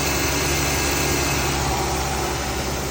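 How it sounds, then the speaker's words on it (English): A 2012 Jeep Grand Cherokee 3.6L with a blown head gasket idles steadily and close by, a constant dense engine drone with no voices. "I got it to start. Car is running."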